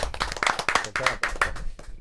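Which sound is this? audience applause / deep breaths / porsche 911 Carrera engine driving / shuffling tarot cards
audience applause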